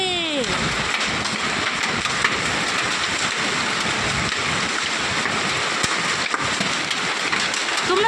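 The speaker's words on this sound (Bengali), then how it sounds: "যাতে টিনের ওপর পড়বে তো তোমরা বুঝতে পারো শিল পড়ছে" Hailstones falling on a tin roof during a hailstorm, a dense, loud, continuous roar of pelting impacts close overhead, with a few sharper hits standing out.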